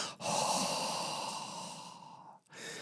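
A fitness instructor breathes in and exhales during a weight-lifting active recovery exercise: one long, close, audible breath running for about two seconds, followed by the start of another.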